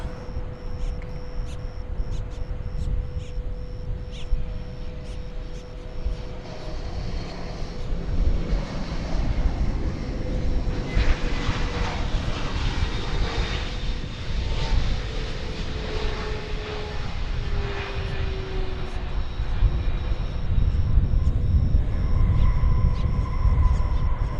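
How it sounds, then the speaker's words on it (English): A departing Boeing 787 Dreamliner jet at DFW Airport gives a steady, broad engine roar that slowly swells and stays loud across the whole stretch, with no talk. "see if we can catch the departing Dreamliner on the way out"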